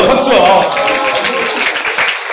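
Congregation clapping in a Korean church service during a sermon, a loud burst of hands at the start that settles into a brief rhythmic patter, with a voice speaking over it.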